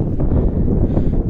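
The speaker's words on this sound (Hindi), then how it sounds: "हवा चल रही है बहुत तेज़" Strong wind gusting across an open high-altitude valley in Spiti, a steady loud low roar buffeting the microphone throughout, with no voices.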